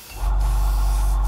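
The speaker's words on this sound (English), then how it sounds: "we can just nicely check our flow first, spray this on" An airbrush starts spraying a 50-50 paint mix at about 20 psi, a sudden steady hiss of air and paint close up, alone.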